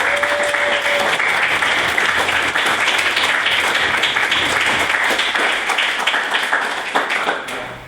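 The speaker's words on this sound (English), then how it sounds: "one final round of applause for all our speakers this evening" An evening debate audience gives a sustained round of applause for the speakers. The clapping is dense and steady throughout and tapers slightly at the end.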